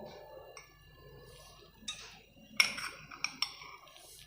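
A metal spoon clinks against a pan as gram flour is added for suji barfi, a few sharp separate clinks with quiet stretches between them and no talking.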